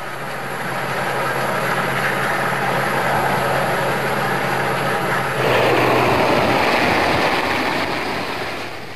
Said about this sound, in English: Despite the high winds, the helicopter manages to land some rescuers not too far from the summit.